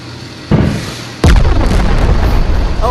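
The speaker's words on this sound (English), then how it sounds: "just use your grenade launchers" Grenade launcher blasts in the video game Animal Company, two loud booming explosions about a second apart, the second heavier and rumbling on.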